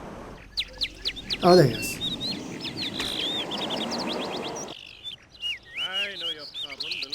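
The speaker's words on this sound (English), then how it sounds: "the birds are so loud I can't even hear his voice" Cartoonish birds from The Simpsons: Tapped Out chirp and tweet in rapid repeated bursts, loud and busy, with a short spoken line partway through and more chirps afterward.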